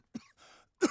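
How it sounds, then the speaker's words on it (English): A character in the 2018 Call of Cthulhu video game coughs, a few short, rough bursts with gaps between, fairly quiet. "I kind of don't want to listen to him cough, though."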